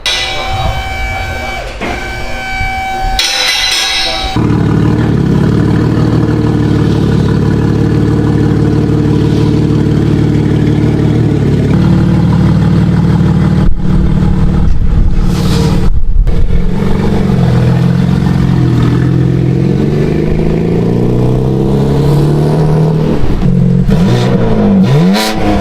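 A tuned 700-whp BMW M3 CS G80 held in four-wheel drive on a dyno produces a loud, sustained engine drone, with shifting pitch and a brief lull midway before it picks back up.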